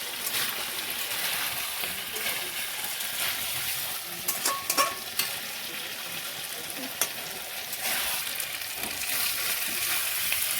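Spiced chicken stir-fried in oil for a light chicken curry, giving a steady close sizzle broken by scraping stirs and occasional spatula clicks, with no talking.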